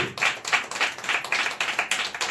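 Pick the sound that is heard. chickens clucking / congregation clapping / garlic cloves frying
congregation clapping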